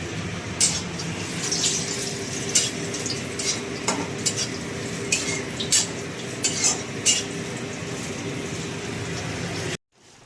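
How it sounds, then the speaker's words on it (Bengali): Eggplant fries in a pan with a low, steady sizzle while a utensil stirs and scrapes in sharp, repeated strokes close by, stopping abruptly at the end. "আর এটা নিম বেগুনের বেগুনটা ভাজছি"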